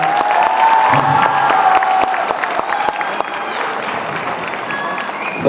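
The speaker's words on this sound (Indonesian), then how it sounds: "Boleh tepuk tangan untuk Mbak Nurul, luar biasa." Audience at a theatre performance in Banda Aceh clapping for the director, steady crowd applause throughout with some cheering and voices mixed in.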